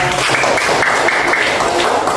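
Classmates clap for a student group after a classroom presentation on the Dhuha prayer, loud steady applause blended with chatter and voices throughout.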